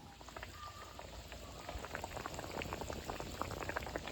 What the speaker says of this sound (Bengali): জল দেওয়া হয়ে গেছে, এখন খানিক জাল হতে থাকবে